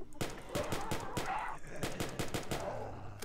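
Rapid gunshots from zombie-shooting in the video game Dark Days, a dense string of sharp cracks firing in quick bursts with brief pauses, loud and close throughout.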